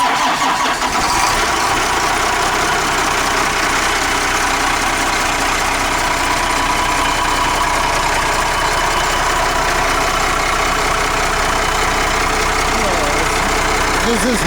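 Diesel engine of a 1997 Blue Bird TC2000 rear-engine school bus cranks and catches, then settles into a steady, loud, even idle that carries on without a break.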